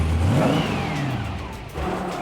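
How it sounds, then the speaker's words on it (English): A Chevy S-10 truck engine revs at part throttle down an eighth-mile drag strip, a steady mid-pitched drone that climbs and then eases off, close and loud with no talk. "we ran down the track at part throttle"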